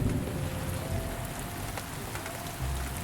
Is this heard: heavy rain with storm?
yes